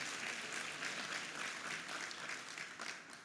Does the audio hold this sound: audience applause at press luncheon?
yes